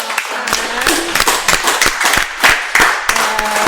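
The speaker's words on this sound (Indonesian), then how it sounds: "kita beri tepuk tangan dulu dong" An audience claps at an Indonesian event about the feature film "Believe" with Danrem 151/Binaiya. The clapping is loud and close, with sharp individual claps standing out from a dense, ragged patter.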